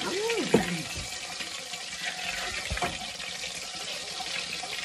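Water runs steadily from a kitchen tap at home, a continuous hiss with a couple of brief splashes and knocks near the start.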